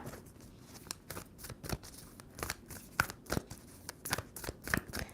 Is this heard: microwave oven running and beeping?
no